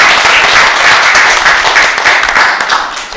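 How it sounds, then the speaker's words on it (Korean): Loud, sustained applause from a seated audience at a formal Korean banquet gathering, a dense wash of many hands clapping close by that carries on steadily before tapering slightly. "박수 부탁드립니다."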